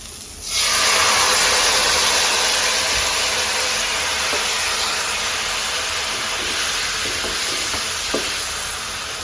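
Fried soybean curry hits a hot pan and bursts into a loud, steady sizzle that holds for several seconds, with faint stirring scrapes on top and no voices.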